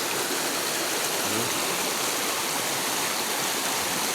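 Clear river water flowing steadily, a dense, loud rushing and babbling close by, constant throughout with no voices.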